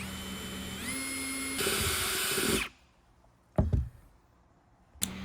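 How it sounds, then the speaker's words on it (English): A power drill whirs at rising speed for a couple of seconds while drilling holes in a Jeep Wrangler JLU hardtop, then stops, followed by a few sharp knocks and a brief final burst. "when you're drilling these holes, you want to give your drill a little bit of pressure"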